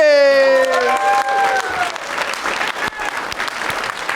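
Audience applause at a live convention panel at AdeptiCon, steady clapping from a crowd that continues throughout, with a brief tonal sweep at the start and a voice faintly mixed in.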